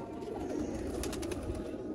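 Sialkoti pigeons of the black-faced Sheikhon wale strain, from the India–Pakistan border area, coo steadily in a low murmuring drone with a few brief higher flutters layered on top.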